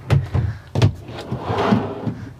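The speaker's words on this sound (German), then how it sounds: "Hier drückst du drauf, dann hast du nochmal 2 große Schubladen." Push-to-open drawers in a converted ambulance camper van, a few quick clicks and thumps as the latches release, followed by a soft sliding rumble of the drawers opening nearby.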